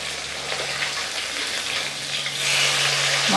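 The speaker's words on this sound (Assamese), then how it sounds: "মাছখিনি দি দিলোঁ আৰু এই মাছখিনি ভাজোঁতে অকণমান সাৱধান হ'ব লাগে, যিহেতু ফুটি যায়।" Borali freshwater shark fish frying in a pan, a steady hissing sizzle that swells louder toward the end, close by with no talk.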